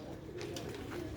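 Sialkoti silver pigeon chicks cooing softly, a brief low murmuring coo at modest distance, faint and alone.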